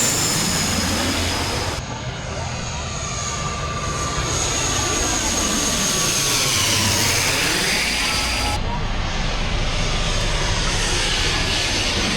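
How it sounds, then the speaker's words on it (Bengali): An airplane passes close overhead, its engine a loud, steady roar that fills the whole stretch with broad rushing noise and subtle shifts in pitch as it moves. "দেখার ট্রাই করব কোনো প্লেন যদি আসে"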